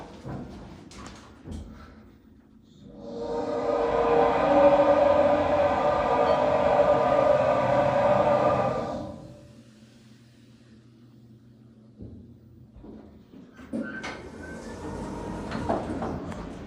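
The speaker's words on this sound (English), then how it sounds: "That is a funky sounding elevator." A ThyssenKrupp hydraulic elevator in a hotel runs with a loud, sustained whining hum for several seconds, then quieter mechanical clunks follow as its doors move.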